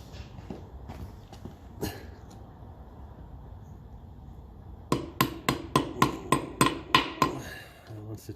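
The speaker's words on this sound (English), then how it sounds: "I'm going to tap that cotter pin in." A hammer taps a cotter pin into a castellated nut on a 1957 Ferguson 35 tractor, giving a few scattered light knocks and then a quick run of about nine sharp metallic taps, close and clear.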